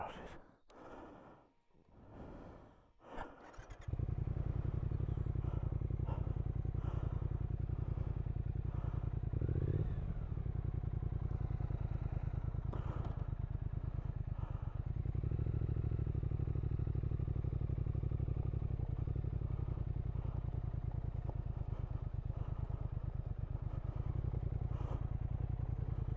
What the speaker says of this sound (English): every motorcyclist nightmare, gravel. Let's go straight across it.